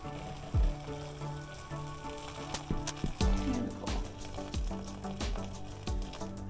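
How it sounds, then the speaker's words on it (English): Hot water is poured into a pot of vegetable soup, a close liquid splash and gurgle broken by several soft thuds and clatters from the pot. "I'm just going to pop the hot water in just now."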